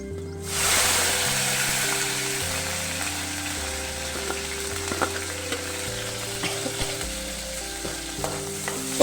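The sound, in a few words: garlic and green chilies frying in oil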